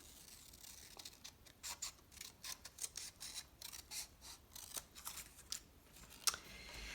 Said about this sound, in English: But this is a really thick piece of paper. The balance bar usually in a canoe is not as thick as this is, so we're going to cut this down.